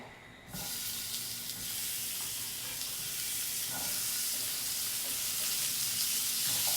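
A bean mixture hits a hot pan and breaks into a loud, steady sizzle that starts abruptly and holds as a bright, continuous hiss with faint scraping underneath.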